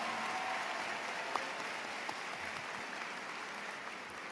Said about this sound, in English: Please give a round of applause once again for our Stevenson Concert Chorale for the rendition of the national anthem.